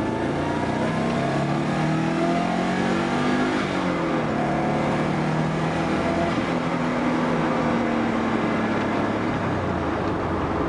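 A car with a stock Subaru EJ20G engine at 10 pounds of boost pulls hard in second gear, its loud engine note climbing steadily in pitch as revs rise, heard continuously and close with no talking.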